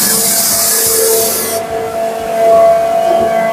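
Loud industrial machinery in a ceramic tile factory, where spray-dried powder is pumped to a 1000-ton tile press: a strong hissing rush that cuts off abruptly partway through, leaving a steady mechanical hum with tonal whine.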